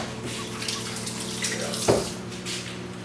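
A kitchen tap runs steadily at low volume during handwashing, with a brief splash partway through.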